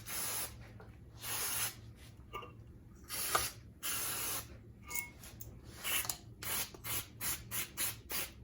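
Solvent degreaser is sprayed in repeated short hissing bursts onto BSA A65 Spitfire engine bottom-end parts, some long and some quick, close up with small clicks of the nozzle in between.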